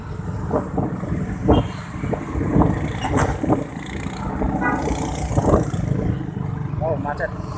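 Congested afternoon traffic of trucks and cars on a Makassar city street makes a continuous rumble of idling and creeping engines, with people talking over it and a short tonal blip near the end.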